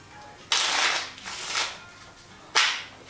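Playing cards are shuffled during a card trick, with two loud riffling bursts, a longer one and then a short sharp one after a pause, heard close up.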